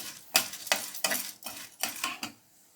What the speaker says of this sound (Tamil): கடலைப்பருப்பை கொஞ்சம் பொரிச்சிக்கலாம் கொஞ்சம் வறுப்படணும் அந்த அளவுக்கு வறுத்துக்கலாம்